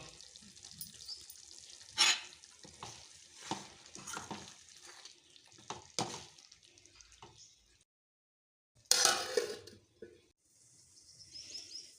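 A spoon stirring egg thokku in a pan, faint sizzling with scattered scraping strokes and a few louder clanks, then a quiet gap before a final burst of stirring; no talking.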